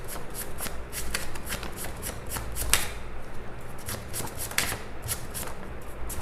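Tarot cards shuffled by hand in a steady run of crisp riffling flutters, close and fairly quiet, with no talking.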